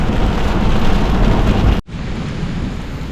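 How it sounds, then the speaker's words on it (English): Steady roar of heavy thunderstorm rain throughout, with a loud rumbling thunder surge that cuts off abruptly, then the downpour continues slightly softer. "It's a heck of a thunderstorm."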